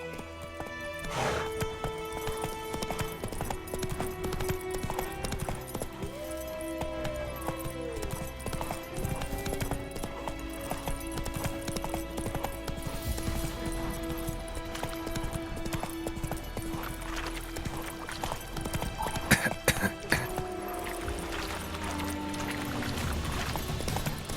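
Geralt's horse gallops in The Witcher 3: Wild Hunt, rapid rhythmic hoofbeats running steadily throughout over in-game music and ambience, with a brief louder flurry near the end.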